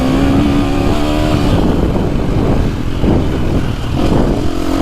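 A 2025 KTM 350SXF dirt bike fitted with a Yoshimura exhaust and aggressive throttle cam revs hard and close, its engine note rising and falling in loud pulses with a sustained buzzing tone.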